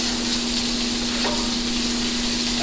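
Butter sizzles in a hot pan over raised heat, a steady crackling hiss with a constant hum beneath it and one brief clink near the middle, continuous and close.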